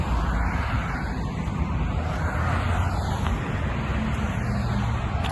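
Constant roar of highway traffic close by, beside a graveyard at Mill Bay on Vancouver Island, a dense broadband rumble with vehicles swooshing past in overlapping waves, no voices.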